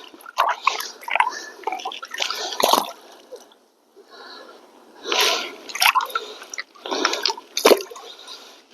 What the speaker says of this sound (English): So now I rinse my rocks right over top of my pan.